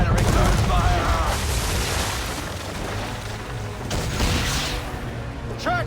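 Ships firing naval cannons during a sea battle in an Assassin's Creed III ambush, heavy booming volleys rolling in loud and close, with a few sharper blasts near the end and shouting voices mixed in.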